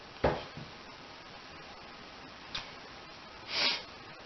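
A few short, breathy sniffs come close to the microphone, spaced apart, with a longer congested sniff near the end.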